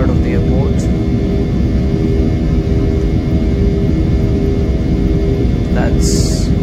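A passenger jet taking off from Delhi airport, heard from inside the cabin as a loud, constant engine roar and rumble with steady hum, and brief voices over it.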